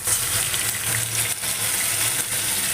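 Turmeric and ginger fry in a pot for a chicken curry, making a dense, steady crackle and sizzle that holds loud and close throughout, with no talking.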